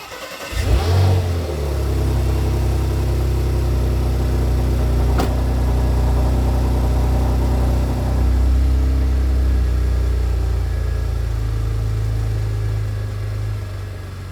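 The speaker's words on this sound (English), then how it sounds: "I'm going to move out the Macan so that we can get more space to work on the Cayenne" A Porsche Macan SUV starts in a garage and is driven out, its engine giving a brief rev and then a steady medium drone at close range that swells slightly and fades as it pulls away.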